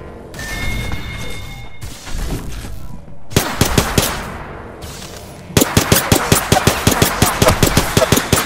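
Gunfire in the video game Apex Legends: scattered shots early, then sharp bursts of rapid automatic fire, closing with a loud sustained stream of evenly spaced shots.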